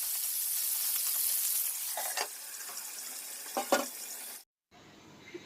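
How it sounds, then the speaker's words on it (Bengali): Marinated chicken pieces fry in oil in a wok with a loud, steady hiss, broken by a few sharp crackles and spatters before the sound cuts off abruptly. "যে মুরগিগুলো রেখেছিলাম এগুলো হালকা একটু ভেজে নিচ্ছি"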